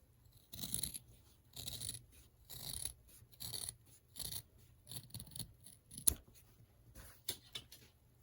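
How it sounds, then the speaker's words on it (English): Scissors cut fabric for a children's face mask, making a series of close, faint snipping and rasping strokes in an irregular rhythm with short gaps, and no talking. "Now I'm going to cut this."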